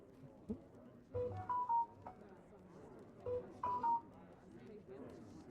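Phone giving short electronic beeps in two quick clusters of rising tones, with quiet voices and background murmur underneath.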